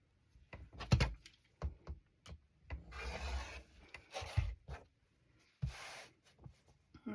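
Scissors or a rotary cutter slicing along the edge of quilting fabric for a Halloween and cat quilt block, a close series of short scraping strokes with soft rasping passes between quiet pauses.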